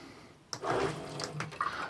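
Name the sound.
12-volt water pump pumping from a 7-gallon water container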